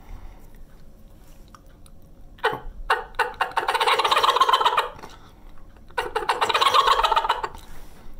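A voice imitates a wild turkey gobble with a rapid tongue-popping rattle against the roof of the mouth, in two loud, close bursts of fast chattering pulses after a few short clicks.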